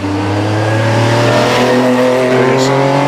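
A Subaru Impreza rally car on the start line of a hillclimb idles and revs loudly close by, its engine droning with a steady rising tone and no break in the noise.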